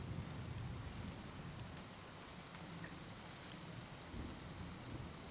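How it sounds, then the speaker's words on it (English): Rain falls steadily in the video game Season: A Letter To The Future, a soft even hiss of drops with occasional faint taps, quiet and continuous with no voices. "Rain."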